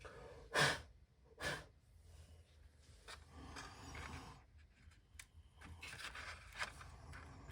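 Short puffs of breath are blown onto super glue setting on a toy hang glider, two distinct close blows early, then quieter breathy gusts and faint handling noises.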